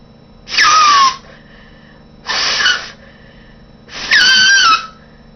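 Homemade folded paper noise maker blown three times, each burst a loud, shrill squeal lasting about half a second with a wavering pitch, separated by short pauses, close up and with no speech.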